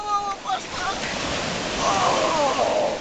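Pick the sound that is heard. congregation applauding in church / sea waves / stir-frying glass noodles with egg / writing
sea waves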